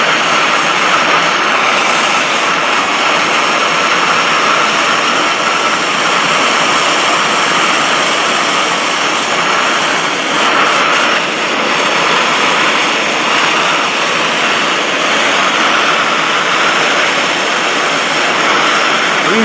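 A gas torch roars steadily and loudly as it heats a stuck bonnet pin on a Land Rover Defender, a constant broad hiss with no other sounds over it.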